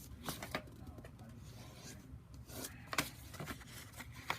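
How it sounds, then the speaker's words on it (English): Paper being rubbed firmly along a box fold crease with a burnishing tool, a soft dry scraping and rasping in repeated short strokes, close and quiet, with faint talk in the background. "you're going to keep on burnishing. Burnish, burnish, burnish very well."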